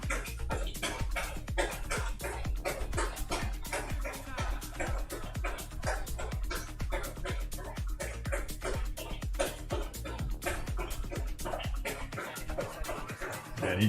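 A dog named Apollo laps water from a bowl in quick, steady wet slurps, close and loud, continuing without a break for the whole stretch.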